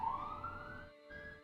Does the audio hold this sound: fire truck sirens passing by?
yes